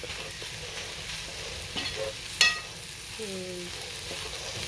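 Bitter gourd (ampalaya) stir-fried with egg, a steady close sizzle with a few scrapes and taps of a utensil in the pan and a brief short voice partway through.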